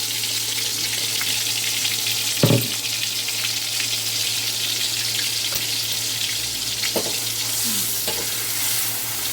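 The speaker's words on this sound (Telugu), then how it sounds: "చూడండి ఫ్రెండ్స్, ఉల్లి ముద్ద వేగుతుంది." Onion paste with cumin and garam masala fries in a pan for a fish curry, giving a continuous close sizzle broken by a few sharp scraping knocks of a spatula, with no one speaking.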